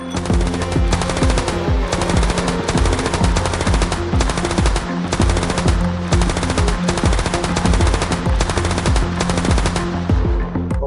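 Sustained bursts of rapid automatic gunfire near the main gate of the jail in Narsingdi, Bangladesh, on 18 July 2024, loud and relentless, shots overlapping in fast rhythmic volleys throughout.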